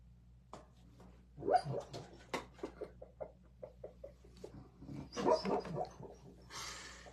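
A niece's dog dreaming in her sleep, giving soft muffled yips, whimpers and little barks in scattered bursts, fairly close and moderately quiet over a low steady hum.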